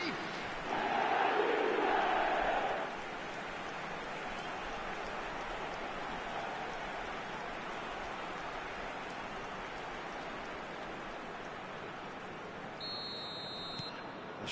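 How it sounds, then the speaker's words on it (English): A stadium crowd in a football video game roars and murmurs as a steady wash of noise, swelling louder for a couple of seconds early on before settling into a constant background hum. "the crowd are reacting to that now"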